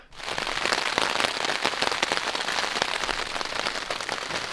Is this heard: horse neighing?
no